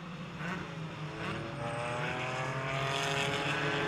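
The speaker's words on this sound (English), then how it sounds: "4 different cars doing the downshifts." Several GT4 race cars on the Virginia circuit blip through downshifts, engines rising and falling in overlapping rasping tones at a distance, building steadily louder with no talk.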